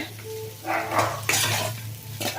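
Raw banana fry is stirred in a pan with a spoon, giving soft scraping and light clinks over a faint steady sizzle, close and moderately quiet, with no talking.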